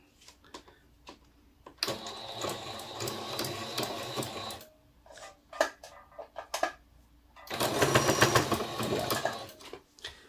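A sewing machine stitches a fabric face mask, running in two long whirring bursts with slow hand-turned clicks of the wheel between them, close and with no one talking.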